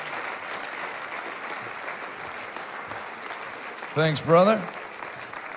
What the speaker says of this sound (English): I know you don't know what you're clapping for, but clap ahead of time.